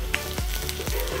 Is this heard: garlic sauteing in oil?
yes